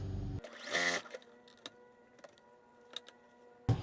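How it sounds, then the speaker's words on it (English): A Juki DX7 sewing machine fitted with a Schmetz Microtex needle runs a short, fast whirring burst while stitching quilt sashing strips end to end, then falls quiet apart from a few light mechanical clicks. "I'm just putting these end to end and sewing them all together to get the sashing"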